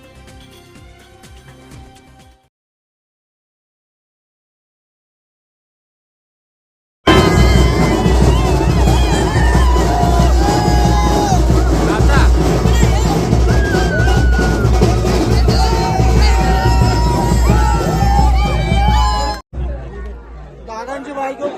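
Dense crowd hubbub and chatter at a victory procession celebrating winning election candidates in Jambhulpada, Sudhagad, Raigad, loud and continuous after a short quiet stretch, with voices and traffic mixed in.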